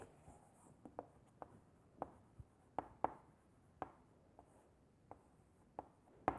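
Sharp, scattered pen or chalk strokes from writing a minus sign in a physics lesson, a dozen or so quick taps and scratches spread irregularly over a quiet room background with no talking.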